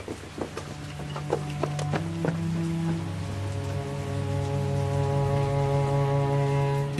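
Rain falls in scattered drops on a surface that thicken into a steady patter under a low droning tone, with no voices.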